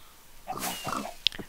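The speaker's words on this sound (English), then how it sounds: "I am a pig." A pig in a Minecraft Block Hunt game gives a short oink and grunt, followed by a sharp click.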